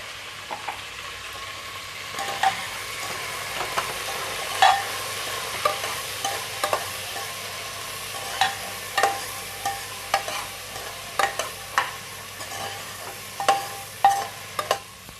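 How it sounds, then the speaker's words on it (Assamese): Pea ghugni masala fries in a pan while a spoon scrapes and stirs it, giving a low continuous sizzle broken by regular sharp scraping strokes, close up with no talking. "এতিয়া এইখিনি অলপ সময় এনেকৈ ভাজি থাকিম"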